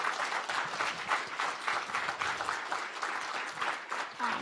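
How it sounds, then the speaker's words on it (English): Sustained applause from an audience for a panel and its moderator after a forum discussion, dense and steady throughout with many hands clapping at once. "give our panelists and moderator another round of applause"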